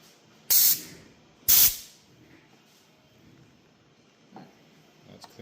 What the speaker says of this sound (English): Good air compressor.